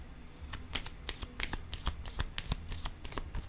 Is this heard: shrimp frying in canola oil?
no